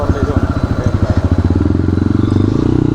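A modified motorcycle riding through traffic, its engine throbbing loudly and close in a fast rhythmic pulse that quickens slightly, with a voice speaking over it.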